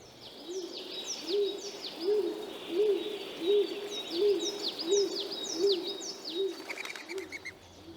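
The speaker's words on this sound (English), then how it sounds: "sound of a stock dove" A low, repetitive gruff cooing of a stock dove repeated about nine times in steady rhythm, with other birds chirping and singing in the background.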